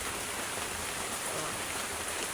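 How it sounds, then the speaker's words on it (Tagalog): Heavy rain pours down outdoors as a steady, dense broadband hiss, faint and even, with no voices. "Ang lakas na naman ang ulan guys."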